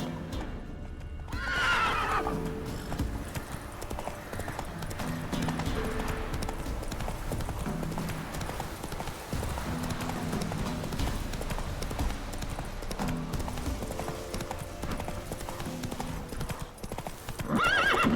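A horse in The Witcher 3: Wild Hunt gallops with steady, loud hoof clip-clops and neighs and whinnies, running continuously under game music and effects for the whole stretch.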